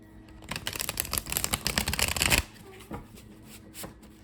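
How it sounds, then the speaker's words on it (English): A deck of cards is riffle shuffled up close, a dense fluttering burst of card snaps for about two seconds, then a few soft handling taps. "One more riffle shuffle."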